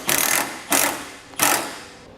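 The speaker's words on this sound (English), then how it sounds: "Now we'll tighten those bolts down." Three bursts of tool whirring, roughly evenly spaced and close by, as bolts are tightened down on a base plate brace in a 2017 Ford Focus, each burst a few tenths of a second long with quieter gaps between.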